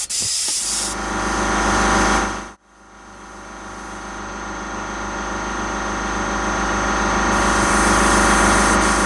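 An airbrush sprays black paint through a stencil onto a T-shirt, a steady close hiss of compressed air running continuously and loudly with a brief break partway through before resuming.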